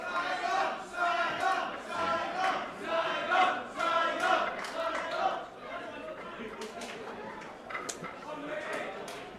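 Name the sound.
Saigon crowd cheering at pool match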